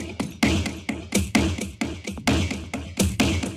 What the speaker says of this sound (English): Here I've got this Foley Chaos percussion